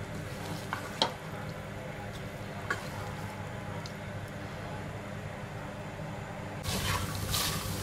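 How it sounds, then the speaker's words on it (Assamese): Boiled rajma stir-fried over a high flame gives a soft, continuous sizzle with a few sharp spatula knocks against the pan and a brief louder burst near the end. "ৰাজমাহখিনি মই ভালদৰে মিহলাই প্ৰায় 3-4 মিনিট মই হাই ফ্লেমত ভাজিম ভালদৰে"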